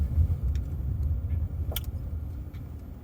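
A car cruises along with a low, steady engine and road rumble, heard from inside the cabin with a few faint clicks and rattles over the drone.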